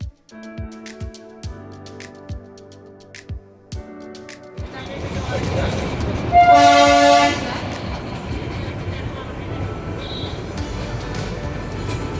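The toy train between NJP and Darjeeling passes Siliguri Town station without stopping. Rhythmic wheel clacks give way to a loud, continuous rolling rumble, and a prominent horn blast sounds in the middle.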